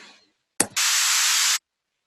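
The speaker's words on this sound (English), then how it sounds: "White noise just to fill out the top." A bright white noise layer in a Logic Pro remix cuts in abruptly after a short percussive burst, holding steady and loud across the upper range for nearly a second before stopping dead.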